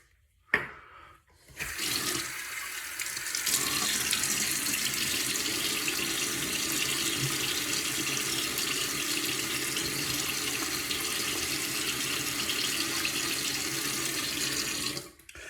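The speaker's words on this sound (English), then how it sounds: "let me get my face wet" Tap water running steadily into a sink to wet the face before a shave, a continuous close rush of water that starts after a brief knock and keeps on evenly until cut off at the end.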